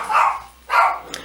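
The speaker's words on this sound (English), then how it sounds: "sorry, that's my dogs." Two loud, close barks from pet dogs indoors, evenly spaced about half a second apart, followed by a short faint yip, with no talking.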